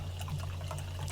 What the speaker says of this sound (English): pouring some water into a glass